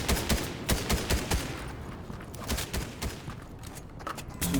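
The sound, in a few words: machine gun fire in video game Fortnite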